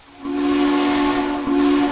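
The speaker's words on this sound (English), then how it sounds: "I wonder if there's a whistle on it." A Southern 630 steam locomotive whistle in the Trainz game sounds one long steady blast, briefly broken near the end and then resumed, with a hissy edge and no steam effects.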